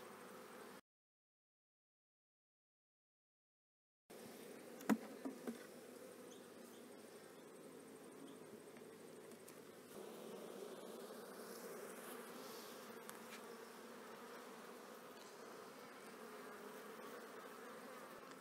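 Honey bees swarming over a brood frame during an autumn hive split, a faint steady buzzing hum broken by a few soft knocks near the start, with no talking.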